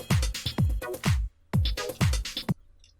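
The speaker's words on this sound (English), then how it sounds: "And then I made a small variation here which sounds like this" Punchy electronic psytrance drum pattern programmed in music software, with booming kicks in a steady rhythm plus snappy hits, playing in two phrases that stop abruptly, alone with no talk.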